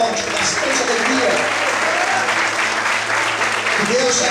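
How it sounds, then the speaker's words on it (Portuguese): A church congregation applauds strongly and steadily during a Portuguese-language sermon, a dense wash of clapping from many hands with a voice faintly audible underneath. "levanta a sua mão, glorifique e aplauda o Senhor bem forte, com bastante alegria."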